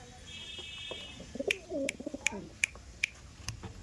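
Andhra pigeons coo softly nearby in low, throaty bursts, with a few sharp clicks ticking at a steady pace in the background.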